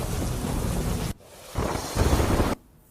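Heavy monsoon downpour with thunder in a rural village, a loud dense hiss of rain broken by sudden drops and swells, rumbling on and off across the few seconds.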